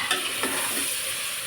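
Vegetable pulao with tomato is stirred in a hot pan, a short close scrape of the spoon over a steady sizzle of frying.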